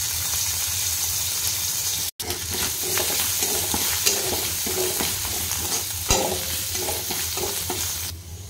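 Ginger and green chilli fry in oil with cumin, a steady loud sizzle with stirring scrapes throughout, briefly cut off near the start, no talking.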